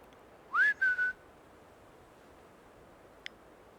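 A single rising then level whistle, clear and close, followed by quiet background hiss and a tiny click.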